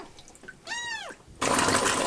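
A cat lets out a single drawn-out meow, clear and fairly close, followed at once by a loud, steady rush of splashing water.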